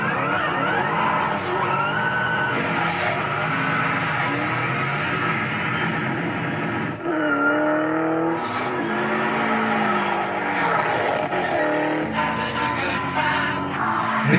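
A Pontiac GTO races a Hoonigan BMW M8 Competition, with loud engines revving hard through the gears and tires squealing. The engine note dips and climbs partway through over a steady roar.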